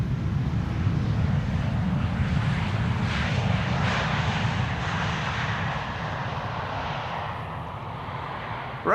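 An Icelandair Boeing 737 MAX 8 arriving at Amsterdam Schiphol Airport, a continuous loud jet engine roar with a broad rushing rumble that eases slightly toward the end, with no voices.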